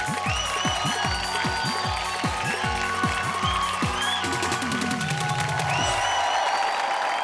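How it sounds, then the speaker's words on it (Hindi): An audience claps to welcome a poet onto the stage of a Bhojpuri TV poetry show. Rapid, dense clapping runs beneath loud, swooping musical stings, and the music fades near the end. "तो जोरदार तालियों के साथ स्वागत कीजिए"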